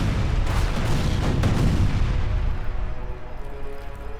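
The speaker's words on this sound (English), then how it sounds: "Cannon bolts! Get down." Cannon bolts fire in an audio drama battle scene, a loud sustained barrage of booming blasts and rumbling artillery through the first two seconds, then fading into a lingering low rumble.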